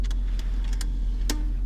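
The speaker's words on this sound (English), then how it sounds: "I'm going to pop the tape." A cassette tape ejects from the stereo of a Jaguar XK8, a few light mechanical clicks and a final sharper clack over the low, constant hum of the car.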